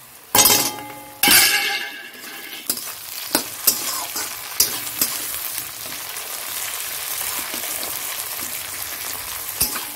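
Tomato, capsicum and green chilli dropped into a pan of frying onions, two loud bursts of sizzle as they hit the hot oil, then a run of sharp clinks and scrapes from stirring over a steady background hiss.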